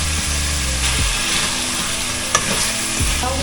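Pork and garlic sizzle steadily and loudly in a hot pan while being cooked for Filipino sinigang. Close, continuous frying with a few scrapes of stirring, and no voices.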